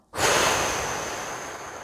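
A single forceful exhalation through the mouth during a breathing exercise, starting abruptly as a loud, airy rush of breath that slowly fades while sustained to the end, with no talking.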